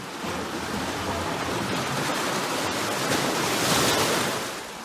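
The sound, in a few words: roar of waves at Devil's Hole cave opening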